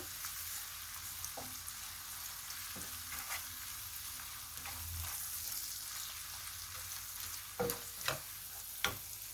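Hilsa roe fries in a pan with cumin and coriander powder, a continuous close sizzle broken by several sharp scrapes of a spatula stirring, with no talk.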